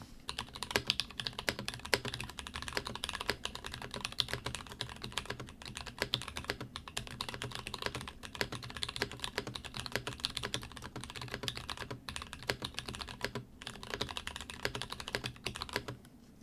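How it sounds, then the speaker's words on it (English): Typing test on a caseless, top-missing Rama U80A keyboard with TKC Kiwi tactile switches: fast, even, close-up clacking keystrokes in a dense steady stream, with no talking. "Let's do a typing test to see how a Kiwi switch sounds like in 2025 with a caseless, top missing board"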